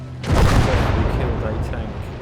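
Bomber explosions in the WWII strategy game Gates of Hell, playing as Germany: a loud, rumbling blast begins just after the start and rolls on as a continuous low-heavy roar of detonations for about two seconds.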